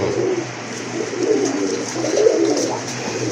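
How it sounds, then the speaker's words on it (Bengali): Fancy pigeons, pink-beaked birds among them, cooing close by in soft repeated low throaty phrases that swell and fade over a quiet background, with no talking. "গোলাপি ঠোঁটের দুইটাই সাপ চোখের কবুতর"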